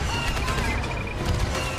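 Blaster gunfire in a Star Wars Battlefront 2 battle, a dense, loud, continuous barrage of shots and impacts with no pauses over a short burst.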